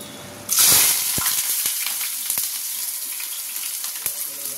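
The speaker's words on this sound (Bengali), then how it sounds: "আর এখানে করছি আলু ভাজবো, ছেলে নিয়ে যাবে টিফিনে" Potatoes frying in a pan begin with a loud burst of sizzling as they hit the oil, then settle into a steady crackling fry with occasional sharp pops and utensil clinks, close by and with no talking.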